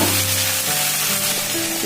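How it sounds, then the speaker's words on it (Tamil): Snake gourd frying with onions in a pan, a dense, steady sizzle close up with faint stirring, no voices. "இப்போ புடலங்காய் போட்டுக்கலாம்"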